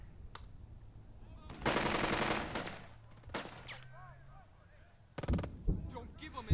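Gunfire from the WWII strategy game Burden of Command: short bursts of rattling machine-gun fire and sharp single shots, loud and close, with quieter gaps between volleys and a final cluster of blasts.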